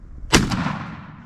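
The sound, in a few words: shotgun shot at turkey while hunting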